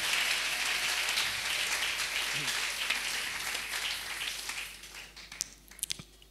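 A church congregation applauding during a French-language worship service, a dense, continuous wash of clapping that slowly fades toward the end, leaving a few scattered claps.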